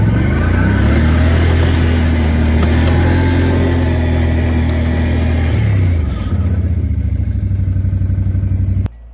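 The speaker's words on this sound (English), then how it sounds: "But ATV is doing a good job." An ATV engine works hard pushing a plow through snow on a driveway, revving loudly at close range and then easing back toward an idle before cutting off abruptly at the end.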